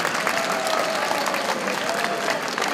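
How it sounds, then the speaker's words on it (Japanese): Dense, steady applause from a crowd after an Electronic Techno Neon Third Prince performance in Taiwan, many hands clapping close and loud throughout. "素晴らしい演技にもう一度拍手をお願いします。"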